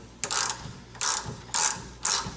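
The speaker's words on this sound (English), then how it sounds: "So I have a ratchet wrench on it and a regular wrench on the top" A ratchet wrench clicks in four short bursts as it loosens a sway bar bolt on a Dodge SRT-4 during a Hotchkis rear sway bar install, close and crisp with brief pauses between bursts.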